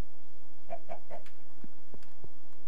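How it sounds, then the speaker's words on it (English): Chickens in the Minecraft world cluck in a short quick run of three notes, followed by a few soft separate clicks and pecks, fairly faint and heard alone. "I hear chickens everywhere."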